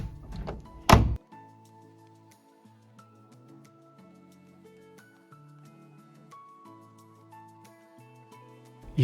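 A closet room door in a detached house in Brampton, the room floored with white carpet, shuts with a single solid thunk near the start, followed by soft background music with no talking.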